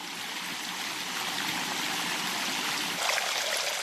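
Water rushes down the stone channels of the Alhambra water staircase in Granada, a steady close burbling stream with a faint trickling splash, no voices.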